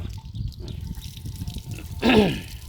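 Water running and dripping at a handwashing point on a farm. A steady low wash of water runs throughout, with a louder splashing swell near the end.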